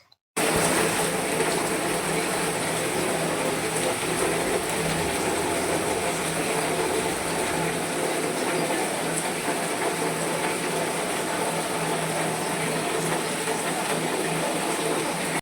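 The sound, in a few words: rain falling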